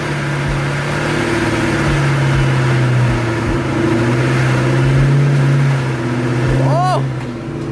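A supercharged Ford Mustang GT with a manual clutch idling with a steady, loud engine drone, then pulling away under load, while people talk over it.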